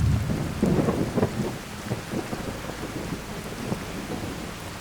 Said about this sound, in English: Still raining, too.